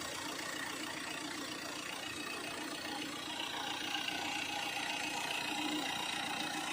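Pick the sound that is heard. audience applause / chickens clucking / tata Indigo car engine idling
tata Indigo car engine idling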